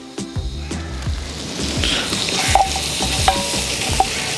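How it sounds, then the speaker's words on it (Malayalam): Flour is stirred into sizzling onions, ginger and green chillies in a Dutch oven for beef stew, with a steady close frying hiss, scraping stirs and a few sharp utensil clinks against the pot. "ഇതിലേക്ക് നമുക്ക് ലേശം മൈദപ്പൊടി ചേർത്ത് കൊടുക്കാം."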